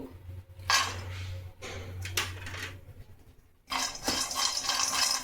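Almonds and cashews roasting in a kadai for coconut jaggery laddu, with close metallic scraping and clinking of a spoon against the pan in bursts, pauses between, and a low steady hum beneath.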